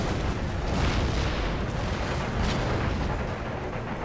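Artillery firing rapidly in the Empire Total War strategy game, a dense, continuous rumble of booming cannon blasts with no gaps, loud and heavy throughout.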